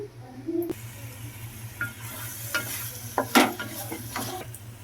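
A utensil stirs boiled eggs into a sizzling tomato curry in a pan, scraping and clinking against the metal over a soft steady frying hiss, close and fairly quiet, with no voice.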